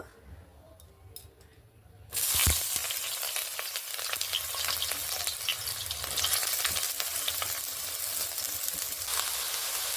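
Eggplant hits hot oil in a pan and erupts into a loud, steady, close-up sizzle that holds for several seconds after a quiet moment.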